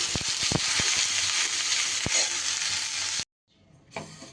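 Snake gourd (chichinga) fries in a pan with a steady, dense sizzle, punctuated by a few sharp stirring clicks, before the sound cuts out briefly and a softer sizzle returns.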